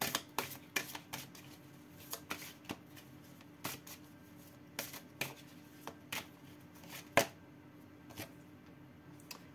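Tarot cards are shuffled for a reading, a quiet run of crisp, irregular riffling snaps and soft slaps, close up with no talk.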